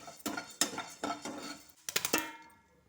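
A metal lid set down onto a pot of popping, frying ingredients for a sweet, giving several close clanks and clinks of cookware in quick bursts, then a quieter fade.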